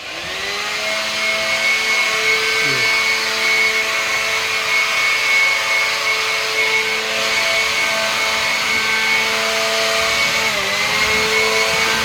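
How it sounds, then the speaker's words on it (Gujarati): A loud, steady mechanical whine with a constant droning hum as an air blower cleans the inside of a machine near the listener, with no voices. "આજે આડિયાભાઈ કરે છે બ્રોવરથી સાફ મશીન"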